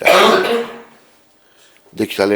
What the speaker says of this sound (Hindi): तुम्हें खांसी बड़ी हो रही है, पीछे जाओ, तो पीछे बैठ के खांस